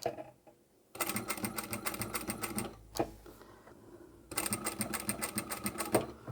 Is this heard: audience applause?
no